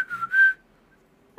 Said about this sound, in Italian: Qualcuno ha fischiato